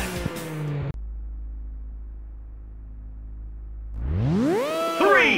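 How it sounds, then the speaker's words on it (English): Race car engines revving in the PlayStation game Ridge Racer Turbo, a loud roar that cuts to a low idle hum and then rises again in sharp, climbing revs near the end. "The engines sound like they're ready to go."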